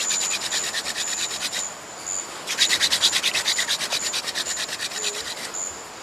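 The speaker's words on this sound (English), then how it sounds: "When I drill, a powder will collect and that will eventually start to glow." A wooden friction fire drill spins against a wooden board in a rainforest, grinding out hot powder, heard as a close, steady rasping rub in rhythmic strokes with one brief pause partway through.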